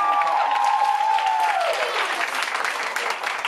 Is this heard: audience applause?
yes